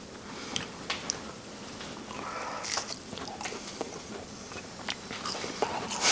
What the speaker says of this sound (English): Let's take a bite and see how they taste.